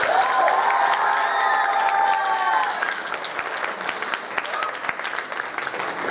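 An audience of young people claps and cheers loudly at a youth entrepreneurship talk, with high shouts early on, then the cheering drops away and the applause continues more loosely.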